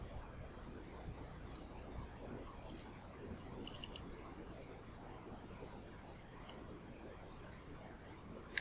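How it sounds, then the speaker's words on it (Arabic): A few sharp, quiet computer mouse clicks come in small bursts against a faint background hiss while selecting OK in Photoshop. "نضغط موافق"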